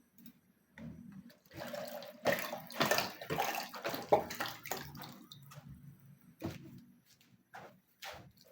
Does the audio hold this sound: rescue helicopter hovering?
no